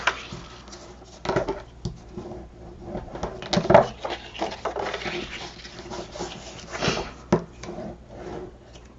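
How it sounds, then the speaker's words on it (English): Paper being folded and burnished by hand while assembling a handmade wedding album, with soft rubbing, creasing and tapping sounds close by, scattered irregularly through the clip with a few sharper taps. "And then I'm going to go ahead and fold and burnish."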